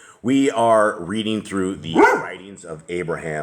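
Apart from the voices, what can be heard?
pit bull dog barking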